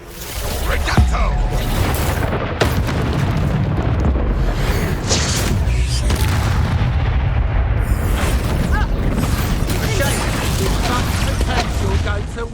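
Heavy magical blasting in Hogwarts Legacy combat, a dense continuous roar of booming impacts and crackling bursts, loud and close throughout, with a voice briefly speaking over the din.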